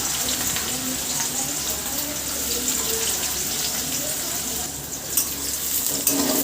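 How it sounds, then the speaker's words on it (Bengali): Mustard seeds, garlic and chopped onion sizzle in hot oil with a loud, steady hiss and a few sharper crackles near the end, close up with no voices. "তেল গরম হয়ে গেছে, সর্ষে ফোড়ন দিয়ে দেবো।"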